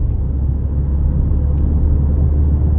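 A car drives along Drake Road in Farmington Hills, Michigan, its engine and tyre noise forming a steady close rumble with no breaks and no talk over it.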